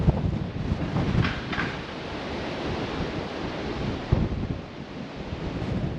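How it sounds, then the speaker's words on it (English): Strong wind roars steadily across the microphone, a continuous heavy rumble with gusty surges and no voices. "It is quite windy right now"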